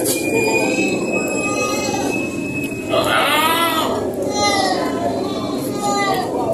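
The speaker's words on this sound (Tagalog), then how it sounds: "Ayan, puro kambing na rin. Kinakarga na." Several goats bleat in wavering cries over a constant noisy background, with people talking nearby, as goats are loaded onto a truck at a livestock market.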